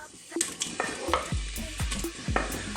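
Chopped white onion hitting hot olive oil over medium heat and being stirred, a soft steady sizzle with repeated scrapes and taps of a utensil against the pan, close by.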